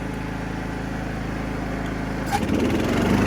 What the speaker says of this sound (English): Let's kick the blades on.